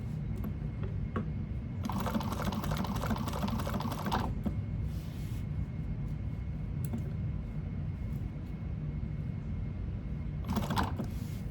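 A sewing machine runs a short angled stitch along the outer edge of an overlay on an Aurora bag, a steady mechanical whir of about two seconds, then a brief second burst near the end under a low room hum.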